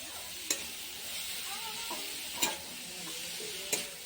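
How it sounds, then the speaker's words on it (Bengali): Food frying in a pan, a steady close sizzle broken by a few sharp clinks and scrapes as it is stirred. "এটা সুন্দরভাবে নাড়াচাড়া করে"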